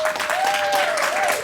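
Audience at a Vancouver AI community meetup claps for climate panelists taking a bow, a steady wash of applause filling the room, with a faint tonal hum underneath.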